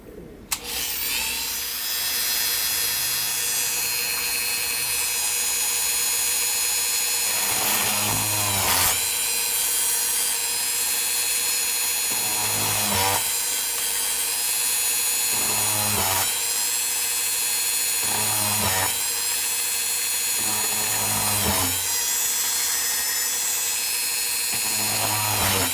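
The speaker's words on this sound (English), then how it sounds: "when you use this to drill a hole through plastic, a small hole like this" A power drill bores a small hole through plastic on a model ship. Its motor whines loud and close and continuously, with brief changes in pitch every few seconds as the bit catches and eases.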